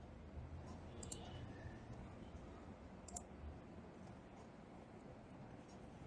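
Two faint, crisp clicks of a computer mouse, about two seconds apart, over soft room hum with no talking.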